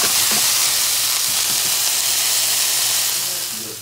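Frozen vegetables seasoned with salt and pepper sizzle in a pan, a loud, steady broadband hiss that runs throughout and fades slightly at the end, with faint voices beneath.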